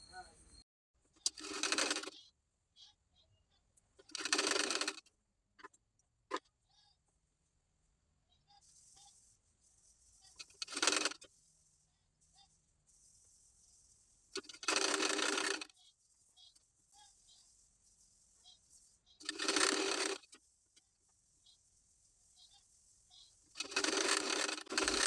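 A sewing machine stitching the back part of a blouse, running in several short bursts separated by quiet pauses, close and moderately loud.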